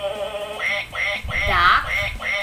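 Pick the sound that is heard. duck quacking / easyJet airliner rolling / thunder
duck quacking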